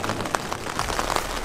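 Steady rain falling outdoors around a vintage 1987 Larson boat, a dense hiss of patter with scattered louder drops, continuous and fairly close, no voices.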